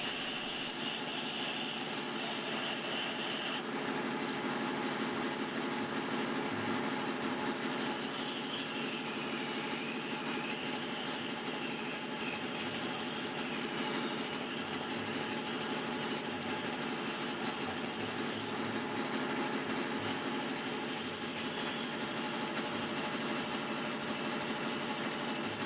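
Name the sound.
sanding inside of a wooden vase on a lathe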